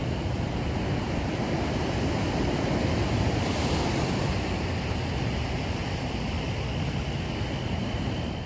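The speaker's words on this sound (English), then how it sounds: "It's so beautiful listening to the waves crashing down below." Ocean waves crash below a coastal headland cliff in Australia, a continuous loud roar of surf mixed with wind buffeting the microphone, with no talking.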